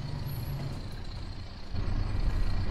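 A heavy truck's low engine rumble with a brief spring brake hiss and clunk, then the idle deepens and grows louder, in the video game Euro Truck Simulator 2 with a realistic sound pack.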